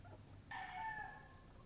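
A Boston Roundhead rooster gives one faint, distant crow lasting under a second over low background hiss, with no voices.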